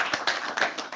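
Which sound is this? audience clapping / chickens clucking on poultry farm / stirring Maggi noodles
audience clapping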